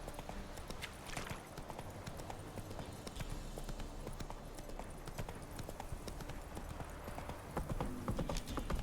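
Hooves clip-clop steadily as the horse Roach trots in The Witcher 3 video game, a quiet, even rhythm of hoofbeats over soft in-game ambience.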